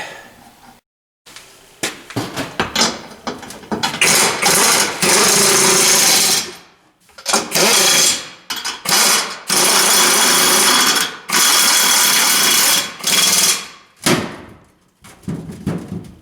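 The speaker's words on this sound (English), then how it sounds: "I welded enough of this just to make it rigid" Tack welding a steel spare wheel mount on a Land Cruiser: loud bursts of crackling arc sound, each lasting a second or two and separated by short silent gaps, close up.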